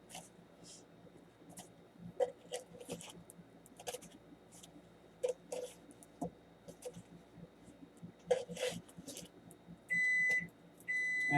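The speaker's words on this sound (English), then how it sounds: "And there's the timer going off for 8 minutes." Kitchen timer going off while English muffins cook in a pan, a run of steady electronic beeps near the end standing out over quiet kitchen clatter and scraping.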